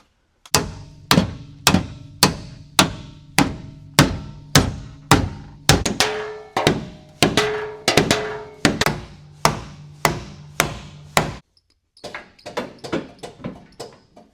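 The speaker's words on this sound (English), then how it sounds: "smack on some spots with the hammer" A hammer strikes a car frame under tension during frame damage repair, delivering about twenty loud, evenly spaced metallic blows. A brief pause comes before a final run of lighter, quicker hits.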